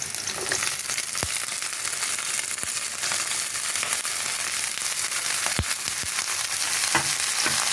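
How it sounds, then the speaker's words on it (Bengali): Broccoli fries in a pan with half-fried onions in loud, dense, crackling sizzle that stays steady throughout, with a few sharp pops and taps, close up and without talk. "এখন আমি এই ব্রোকলিগুলো সব এর মধ্যে তুলে দেবো"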